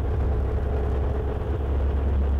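Volvo truck diesel engine drones steadily under load while the I-Shift automated transmission skip-shifts gears, a continuous low rumble heard from inside the cab without clear breaks.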